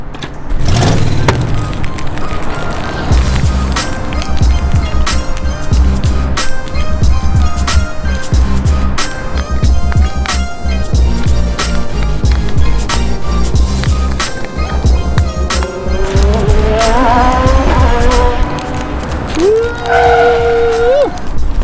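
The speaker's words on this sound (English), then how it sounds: "we just tape this I5R to the back of this electric scooter, and we're just gonna ride around the parking lot" An electric scooter carrying a taped-on Olight I5R flashlight rolls around a parking lot, with loud continuous rumble and scraping wheel noise throughout and whining tonal sweeps near the end.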